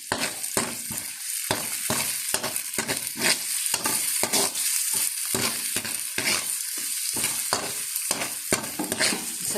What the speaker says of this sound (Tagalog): Gisa-gisa lamang po.